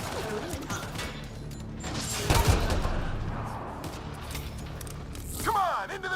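Enemy gunfire in a Mass Effect Andromeda battle crackles through a dense, noisy combat mix, with a heavier burst midway and game voices talking over the fighting.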